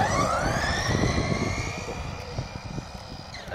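A first-generation Nikko Dictator 4WD RC buggy, freshly rebuilt transmissions, runs outdoors with a high electric motor whine that rises in pitch and holds, close and fairly loud over rough crackling ground noise.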